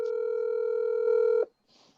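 Telephone handset dial tone holding steady and loud, then cutting off abruptly, followed by a short pause and a faint hiss or click as a call is placed.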